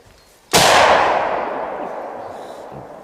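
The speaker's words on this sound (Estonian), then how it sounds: "Võib midagi juhtuda, aga lask läheb kõrgele ülesse." A single loud gunshot from an old original military round, fired high into the air outdoors at a bunker battle reenactment, cracking sharply and then rolling away in a long, slowly fading echo.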